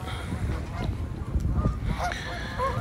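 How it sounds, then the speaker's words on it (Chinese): A large flock of Canada geese honking by a cold, partly icy lake, scattered overlapping honks and calls at moderate distance over low outdoor background noise. "湖边一大群加拿大鹅"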